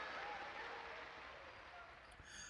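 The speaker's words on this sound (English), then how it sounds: "A huge round of applause engulfs the theater." Broad, steady wash of theater audience applause at a visual novel's story ending, dense and continuous, holding at an even level throughout before swelling slightly at the close.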